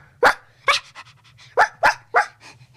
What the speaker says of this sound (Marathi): मोती आला मंगलाचा कुत्रा